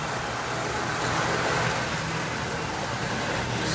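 A model train locomotive runs steadily, hauling four plastic passenger cars in a continuous, even rumble with a faint high whine, close and constant throughout.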